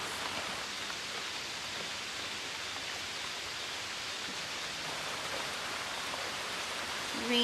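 A steady rain shower hisses evenly and softly during an outdoor summer yoga practice, a continuous wash of falling drops with no voices.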